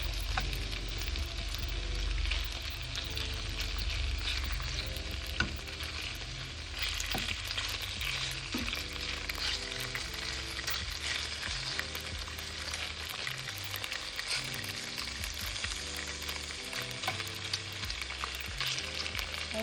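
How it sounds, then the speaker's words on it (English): Shrimp frying in a pot with ginger for a stir fry, a steady loud sizzle that runs without a break, with occasional faint scrapes and taps of stirring and no voices. "I know we're going to add the shrimp to the pot"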